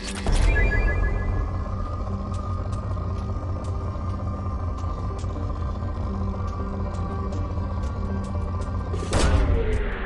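A planet probe launches in Mass Effect 2, giving a loud whooshing burst, then a steady deep rumble with a faint ringing electronic tone, and a second sweeping burst near the end.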